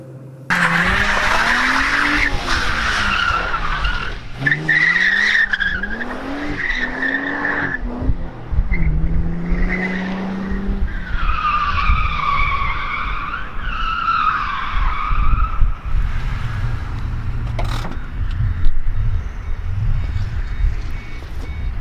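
A Ford Mustang S197 V6 drives hard with repeated tire skids and squeals, the engine note rising and falling in waves over a steady, loud roar throughout.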